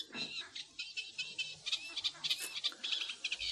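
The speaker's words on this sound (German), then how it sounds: "In diesem Schilfgürtel lebten eine Menge Vögel, Enten, der Teichrohrsänger oder Kerikik" Birds call from a lakeside reed belt where ducks and a reed warbler live: faint, quick chirps and twittering notes scattered in uneven bursts, heard at a distance in a quiet setting.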